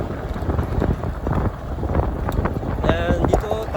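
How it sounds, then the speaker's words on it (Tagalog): Steady wind rushes and buffets the microphone in a continuous low roar, with faint talking mixed in underneath. "Malamig ngayon, mahangin."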